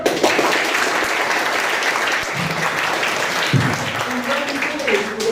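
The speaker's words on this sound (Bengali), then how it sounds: "হাততালি দাও" A crowd at a farewell reception claps steadily throughout, dense continuous applause with voices mixed in underneath.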